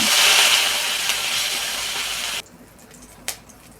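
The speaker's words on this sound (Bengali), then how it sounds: "বাকি মাছগুলো আমি ভেজে নেব" Small puti fish frying in hot oil give a loud, steady sizzling hiss that cuts off abruptly partway through, leaving quiet room tone and one brief clatter.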